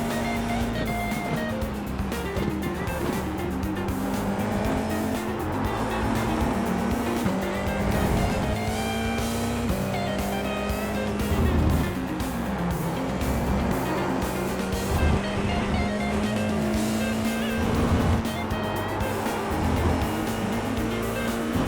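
Formula 4 race car in the iRacing sim at Laguna Seca, its engine droning steadily with pitch rising and falling through gear changes and corners, plus brief tire squeals, heard alone throughout.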